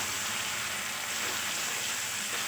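Chicken frying in a pan gives a steady, even sizzle with a hissing, rain-like texture, close and unbroken, with no talking.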